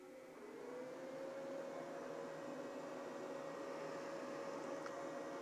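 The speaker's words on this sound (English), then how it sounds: "this is what the fan's gonna sound like when it's like, I guess when it's at like full blast" An EcoFlow River portable power station's cooling fan runs at full speed, giving a steady airy whoosh with a constant tonal whine, moderately loud and unbroken.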